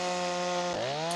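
A Stihl 025 chainsaw with a broad-tip stock bar and quarter-pitch chain carves wood, its engine droning steadily and loud up close, then dipping briefly in pitch as it bogs under load before revving back up.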